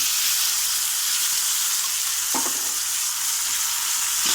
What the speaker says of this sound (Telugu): ఇప్పుడు మనం సాబుదాను నానబెట్టి పెట్టాం కదండి, ఇది వేసేసుకుందాము